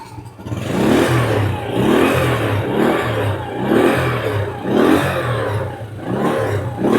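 A motorcycle engine revving while it warms up, repeated rhythmic throttle blips rising and falling about once a second, loud and close with no talk.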